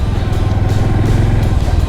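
A new Honda Super Cub motorcycle engine idles loudly up close, its steady throbbing putter continuing without pause.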